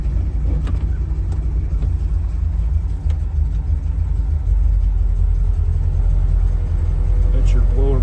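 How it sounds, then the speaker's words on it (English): A 1964 Chevrolet Corvette coupe's blower motor runs with a steady low whir and hum inside the car, continuous and fairly loud throughout, with a few faint clicks and a voice speaking briefly over it. "That's your blower motor."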